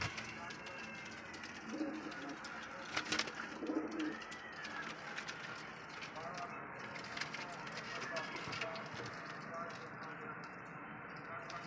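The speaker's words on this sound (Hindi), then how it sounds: "कबूतर मेरे सर पर हो गए हैं।" Racing pigeons cooing close by, soft low throaty coos recurring a few times amid quiet background rustle and ambient noise, while someone talks over them.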